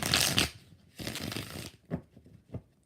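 A deck of tarot cards being shuffled by hand, two quick riffling bursts followed by a few softer taps and slides, close and fairly quiet.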